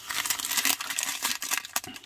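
Small plastic bags of diamond art drills crinkle and rustle close up in quick, irregular bursts, fairly quiet, with no voices.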